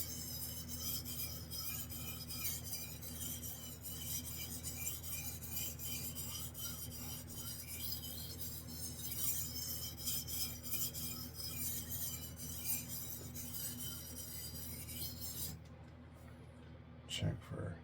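A Japanese chef knife is drawn across a whetstone in a steady run of rasping strokes, faint and close, with a brief pause near the end before a few more scrapes.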